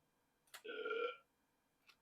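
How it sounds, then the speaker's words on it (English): A cartoon cat's burp from a Photoshop Easter egg on a Mac, a single loud, throaty belch lasting about half a second, bracketed by faint clicks, with no talking. "You can click on its nose to make it burp."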